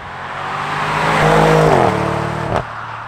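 A BMW M550i xDrive in sport mode accelerates hard, its engine note climbing loudly in pitch, then dipping at a quick gear change before pulling again, heard close from inside the car.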